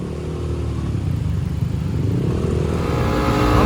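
Motorbikes rev and accelerate through dense Manila city traffic, a steady close engine roar that swells louder toward the end, with no voices.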